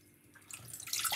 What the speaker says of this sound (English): 1 cup of water into the pot like this